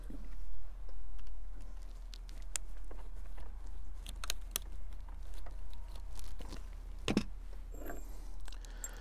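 Fiber-wadded 24 gram shotgun cartridge with 7.5 shot having its end cut off, heard as a scatter of small close crisp snips and crunches with short pauses between them, quiet and without talk.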